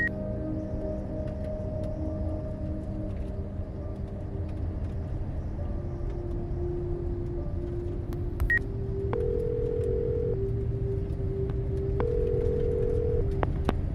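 Telephone call tones in an audio drama: steady sustained tones with brief higher beeps partway through, suggesting dialing and ringing before voicemail, over a constant low rumble like a moving vehicle, with no one speaking.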